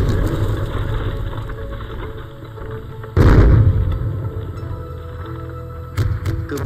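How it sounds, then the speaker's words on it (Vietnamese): Artillery shelling in a narrow mountain valley pass during wartime, a heavy low rumbling barrage with a sharp loud blast about midway and another burst near the end over continuous booming. "Chúng nó đang pháo kích."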